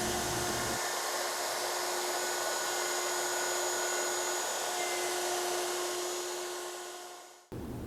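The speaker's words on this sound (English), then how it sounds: "that's what this setup looks like with a plunge router, and I can just take my time and remove that central section of the table in 2 to 3 passes" A plunge router fitted with a carbide spiral bit cuts a recess into a table top, a loud steady high-pitched motor whine running for several seconds, sagging slightly near the end before it cuts off abruptly.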